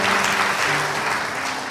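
Church congregation at an Indonesian worship service applauding, a loud unbroken wash of many hands clapping with a faint sustained tone underneath.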